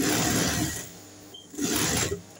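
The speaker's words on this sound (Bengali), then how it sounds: "রাবার এবং প্যান্টটা কিন্তু একসাথে কিন্তু টেনে টেনে এই সেলাইটা করে নিতে হবে।" A sewing machine stitches elastic rubber onto pants while the fabric is stretched taut, running in two close, steady motorized bursts separated by a short pause.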